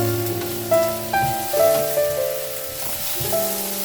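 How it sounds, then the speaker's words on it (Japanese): Celeriac sizzling in a frying pan, a steady bright hiss of frying running beneath melodic background music with a few soft stirring bumps. "水を切ったセロリをフライパンで炒めていきます"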